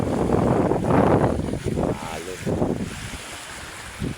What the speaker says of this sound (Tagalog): Maalon ating dagat